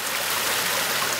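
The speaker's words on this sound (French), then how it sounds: "La rivière, on l'entend bien." A steady, full wash of flowing river water, a continuous rushing hiss with no pauses and no voices.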